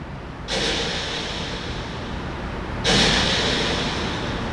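A synthesized explosion effect, like a missile blast, built from a distorted kick drum fed through echo: two loud broadband booms, each leaving a long, washing tail of noise that lingers until the next hit.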